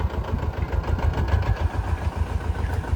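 A small 20 to 24 horsepower Mahindra Jivo tractor runs steadily while tilling with a five-tine cultivator, its engine a close, loud, even low chug that holds without a break.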